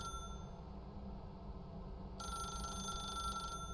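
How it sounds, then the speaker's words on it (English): In The Stanley Parable: Ultra Deluxe, a telephone rings for over a second with a bright, sustained trill above a constant low background drone. "Unplug the phone."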